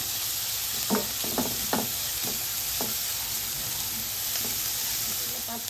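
Ginger garlic paste and green chillies fry in oil for boti fry, giving a constant hissing sizzle with a few light spoon knocks against the pan early on.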